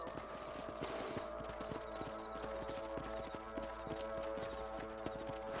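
Horse hooves clip-clopping in the Red Dead Redemption video game, a steady quick trotting rhythm of hoofbeats that continues throughout at a moderate level, with faint background game ambience.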